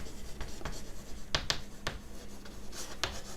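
Handwriting on a board during an accounting class, with irregular scratchy strokes and taps coming close and fairly steadily, and no talking over them.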